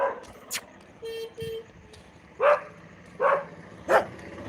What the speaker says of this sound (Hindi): यहाँ पे डॉगी बोल रहा है